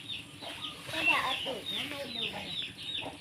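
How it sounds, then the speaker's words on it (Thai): Chickens cluck and murmur close by in a rural Thai yard, several soft overlapping clucks in an uneven rhythm, with a voice talking faintly among them. "ระวังไก่ มากิน"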